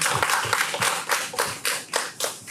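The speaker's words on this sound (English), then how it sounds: "please give a big round of applause as I welcome Dr. Dayo Obisan as he gives his keynote address for the day" Conference audience clapping for the keynote speaker at an economic outlook event, a slow, rhythmic series of loud unison claps about every quarter second, close and distinct.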